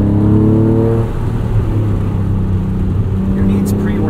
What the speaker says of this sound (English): drive an NSX like this